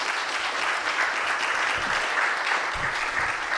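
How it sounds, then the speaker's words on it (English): A full room applauds candidates at a mayoral candidate forum, a dense, even wash of clapping that holds steady throughout with no voices on top. "we want to give a round of applause to the candidates"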